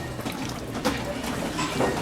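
Water pouring in through a leaking roof, a continuous noisy rush and splatter of falling water, fairly loud and steady throughout.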